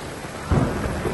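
A sudden close crack and rumble of thunder bursts over steady rain falling on surfaces, loud and brief against the continuous patter.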